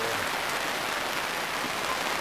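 Steady rain falls outdoors in a yard where a rooster sheltered under a tree, a dense unbroken hiss of drops with no voices over it.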